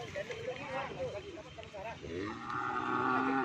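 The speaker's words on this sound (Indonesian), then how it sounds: "Sapi yang baru dilepas." Newly released cattle, with a cow giving a long, loud moo near the end. Low grunts and lowing come before it, with people talking over the animals throughout.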